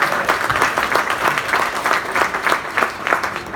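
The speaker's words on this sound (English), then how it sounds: "Give them a big round of applause." Audience applause at a California political fundraiser, a steady wash of many hands clapping throughout, fairly loud and sustained with no talk over it.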